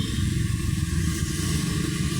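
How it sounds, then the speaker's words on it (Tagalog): Steady, loud traffic roar from motorcycles, cars and big trucks passing continuously along a busy motor lane, a dense low engine rumble with no pauses and no talking. "So, motor lane. Maraming dumadaan. Malalaking truck. May kotse."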